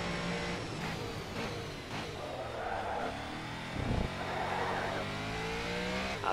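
Race car engines rev and accelerate in the GRID racing video game during a Club GT TVR showdown, with a continuous high whine, gear shifts and occasional tire squeal.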